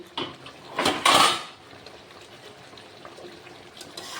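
Metal pot lid lifted with a couple of clanks, then a spoon scraping and stirring chicken in a cooking pot over medium flame, soft clatter fading into quiet sizzling.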